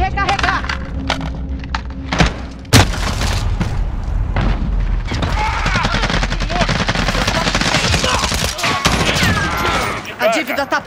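Video game gunfire, bursts of rapid automatic shots and sharp single booms, loud and close, with a heavy blast early on and a dense, continuous firefight afterward under a voice speaking.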